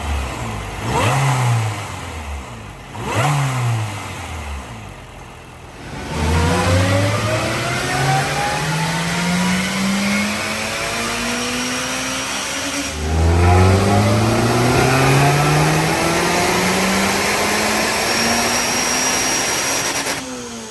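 A supercharged Mitsubishi GSR engine with stock internals, stock cat and stock exhaust revs hard in repeated loud pulls, each climbing in pitch, with brief drops between and a long sustained rev toward the end.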